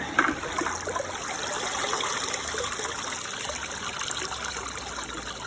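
Water drains steadily from a bucket of washed, freshly foraged fiddleheads, a continuous trickling, splashing pour heard up close with no voices.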